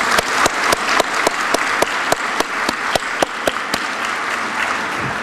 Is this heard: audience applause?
yes